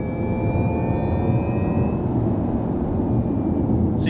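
A Nissan Ariya NISMO electric car plays its synthetic Formula E-style drive sound, a steady whirring tone with thin rising whine lines over road rumble from inside the cabin.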